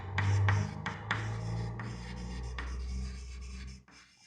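A pen scratches on paper while coordinate geometry is worked out, giving a close, steady scratching with a few sharper strokes and taps over about four seconds. No voices are heard.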